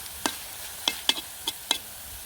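Greens with garlic frying in a pan, giving a handful of separate sharp stirring clinks and scrapes spaced through a quiet, faint sizzle, with no voices.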